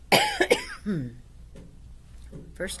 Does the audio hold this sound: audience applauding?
no